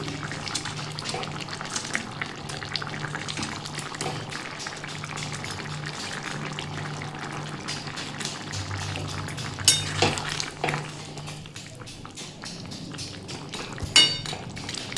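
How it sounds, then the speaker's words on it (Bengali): Ridge gourd and lentil fritters slipped into a simmering spicy gravy in a pan, a continuous close bubbling and sizzling with a couple of brief louder splashes and clinks. "বড়াগুলো আমি একটু ঝোলে ডুবিয়ে দিচ্ছি"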